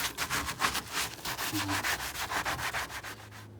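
Rough side of a sponge scrubbed hard over boat carpet, a steady run of rapid close rasping strokes with no talking.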